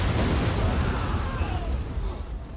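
Battle explosions from Total War Rome 2, rumbling booms and bursts layered into one continuous loud blast that slowly fades toward the end.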